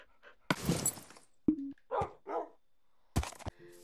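A dog in the Minecraft video game barks a few times in short separate bursts, close and fairly loud, with brief quiet gaps between them and a whimpering note near the start.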